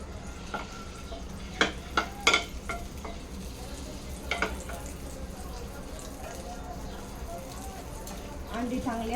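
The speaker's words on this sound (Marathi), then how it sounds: "तेल आता आपले गरम झालेलं आहे, तर यामध्ये ही अंडी घालून घेऊया." Eggs frying in hot oil for a dhaba-style egg masala give a soft, steady sizzle, with a few sharp clinks and scrapes from a utensil and a swelling crackle near the end.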